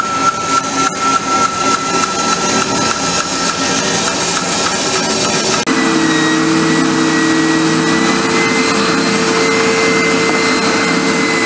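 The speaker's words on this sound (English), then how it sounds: "What I'll do is just cut it out, and then I'll do the final shaping on the sander" A sander shapes a thick piece of wood for a glider bench, giving a loud, continuous whirring drone with a rhythmic pulsing at first that then settles into a steadier, harsher grind.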